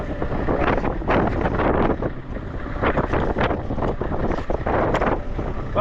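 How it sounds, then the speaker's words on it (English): Wind gusts outdoors on a farm beside a JCB, buffeting the microphone in heavy rumbling bursts that rise and fall irregularly, loud and close throughout. "Windy out here, isn't it?"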